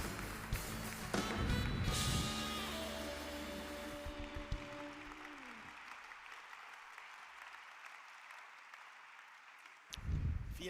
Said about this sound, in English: Thank you for your great applause, dear delegates and guests.